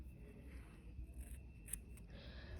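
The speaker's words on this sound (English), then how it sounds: "we're just going to cut the yarn" Scissors cut crochet yarn nearby for a Santa hat, a few quiet snips standing out over faint background noise.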